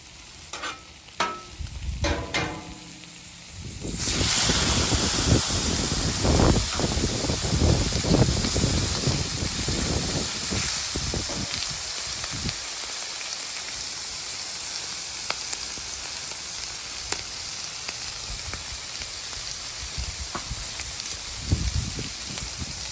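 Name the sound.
butter and shrimp sizzling on a griddle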